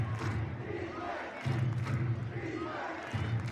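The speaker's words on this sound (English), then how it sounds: "Defense cheer from the stands below us" A crowd in the stands at a high school football game between Tulsa Washington and Durant roars in rhythmic surges for the defense, distant and muffled, rising and falling in swells.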